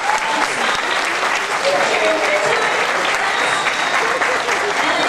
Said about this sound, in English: one more big round of applause for these guys